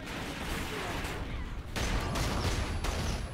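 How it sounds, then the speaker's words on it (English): Rapid grenade blasts and gunfire from a Call of Duty: Ghosts team deathmatch on the Warhawk map, with a dense, continuous roar of overlapping explosions and shots throughout. "Who is that guy throwing those nine bangs?"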